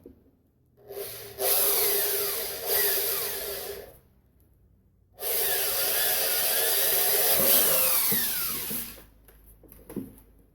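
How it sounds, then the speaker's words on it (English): An electric drill with a 2mm bit whines through wood, drilling a pilot hole for an RC model boat's rudder shaft in two long bursts separated by a pause, the bit grinding steadily, with a few light clicks afterward. "I'll drill a pilot hole for the rudder shaft here with a"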